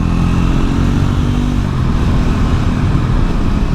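A Triumph Scrambler 400X motorcycle being ridden on a new, low-mileage bike, its engine a steady loud drone with low harmonic tones that break into rougher, grittier rumble partway through, wind and road noise constant throughout.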